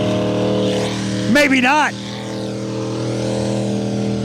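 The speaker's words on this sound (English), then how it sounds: "the whole point of tractor pulling is go and make a lot of noise" Loud engine roar at a tractor and truck pulling event, a sustained droning rumble with a steady pitch that runs throughout, while a person briefly speaks over it near the middle.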